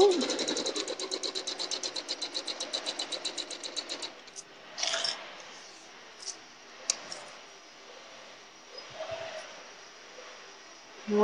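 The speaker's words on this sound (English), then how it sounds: "I'm going to sew this time directly on that line." Sewing machine stitching along a marked line on quilt squares: a close, steady rapid chatter of needle strokes for about four seconds, then quieter handling and fabric rustle, with a voice talking softly.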